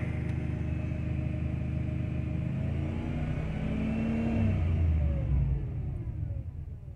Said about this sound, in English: So we're going to run it up and see if the check engine light comes on.